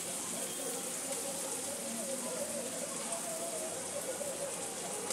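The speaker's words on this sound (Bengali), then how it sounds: "এখানে আলুটা দিয়ে দেবো।" Potatoes drop into hot spiced oil in a pan and crackle in a steady, dense sizzle close by, with a voice speaking softly over it.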